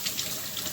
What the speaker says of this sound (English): let me rinse my hand really quick.